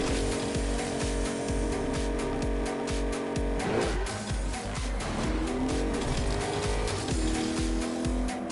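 Car engine revving hard with repeated tire squeals and skids while driving in the video game Agent of Mayhem, loud and continuous with no talking.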